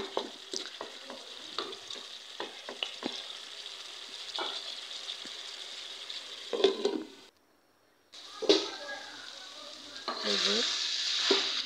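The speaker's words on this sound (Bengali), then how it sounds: "এভাবে তো করলা ভাজি করলে একটু তিতাও লাগে না" Sliced bitter gourd (karela) fries in a pan with a continuous sizzle, broken by stirring clinks and scrapes, one brief pause, then a louder burst of frying; a voice speaks briefly.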